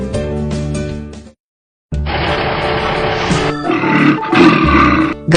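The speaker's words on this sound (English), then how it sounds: "Gorilla." Deep, rough roaring from a large animal, a brief bellow, a short silence, then a longer growling roar that swells and rumbles.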